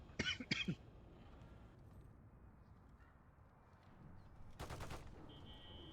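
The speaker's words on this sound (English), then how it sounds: "Somebody shooting pistols at windows." Pistol shots fired at windows in a video game: a quick burst of sharp shots at the start, a quieter stretch of low rumble, then another loud cluster of shots near the end, with a faint tone after.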